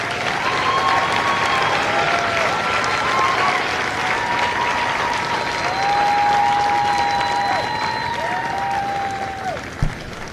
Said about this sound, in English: please join me in a round of applause for the company staff of Company A.